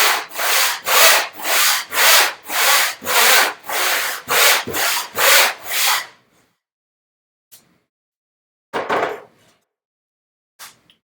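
A hand saw cuts through wood for a bookcase in about a dozen even back-and-forth strokes, loud and close. It then stops, followed by a few isolated knocks and taps.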